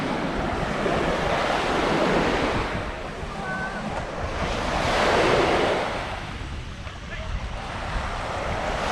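Waves roll in and wash over the soft-sand shore at Cala Torta, Mallorca, in slow surges, with wind buffeting the microphone throughout.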